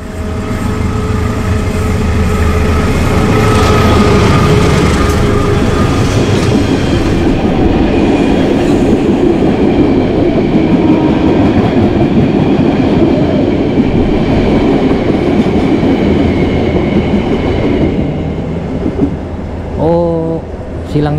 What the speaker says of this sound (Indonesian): Silangnya sama kereta Parsel teman-teman, jadi 2 kali ya, kereta Parsel sama kereta api Lodaya.